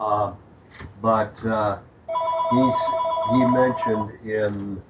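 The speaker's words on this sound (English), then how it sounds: "sorry for the ringing phone there." A telephone rings with a steady electronic bell tone for about two seconds between stretches of someone talking, then trills again beneath his continuing speech.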